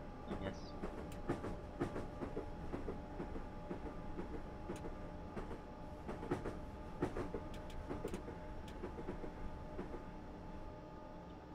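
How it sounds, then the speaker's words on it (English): A train running on the Brighton Mainline in Train Simulator 2018, a continuous steady rumble with rhythmic clickety-clack of wheels over rail joints, moderately loud and unbroken. "I might actually try to modify this train and change the run sounds."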